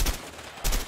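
Gunfire in a jail-escape multiplayer video game: two sharp, loud shot bursts, one at the very start and another about two-thirds of a second later, with no voices.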